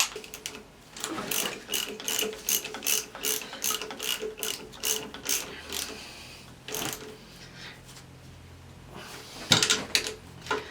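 Rapid ratchet clicking in repeated bursts as 12 mm bolts are tightened on a truck engine, loud and close, with brief pauses between runs of clicks.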